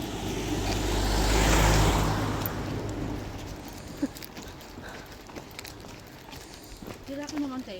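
A car passes on the road during a dog walk, its broad rumble swelling to a peak in the first two seconds and then fading, followed by footsteps and people talking.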